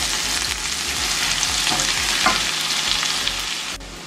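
Garlic frying in a pan for a vegan curry, a loud, steady, close sizzle with a few faint stirring scrapes, cutting off abruptly near the end.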